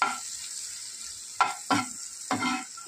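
Cumin and whole garam masala frying in butter in a pan, a steady close sizzle broken by three quick stirring scrapes in the second half.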